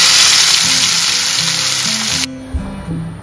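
Marinated fish frying in a pan with curry leaves, a loud, steady sizzle that drops off sharply partway through, leaving a quieter crackle with a few soft clatters.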